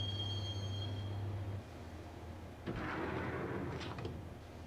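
A train ride in the PS2 game Max Payne, with a low rumbling of the rail car and a steady hum that drops away, followed by a burst of clattering and metallic rattles, moderately faint and with no talk.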